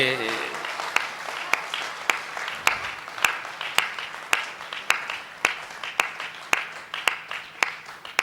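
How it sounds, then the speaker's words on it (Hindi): An audience at a Hindi poetry recital in Guna claps in slow unison, sharp evenly spaced beats about twice a second over a faint bed of murmuring, with a voice heard briefly at the start. "इसमें इतनी तालियां बजा दी है"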